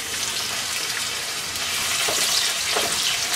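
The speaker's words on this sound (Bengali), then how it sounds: "1/4 কাপ তেল দিয়ে নিয়েছি। পেঁয়াজ কুচি দিয়ে দেবো 1/3 কাপ।" Chopped onion frying in oil, a steady loud sizzle and crackle close up that continues without a break, with a few faint stirring scrapes.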